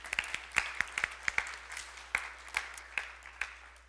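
Scattered hand claps from a small audience at a Sunday church gathering, sparse and uneven, each clap crisp and close, with no talking over them.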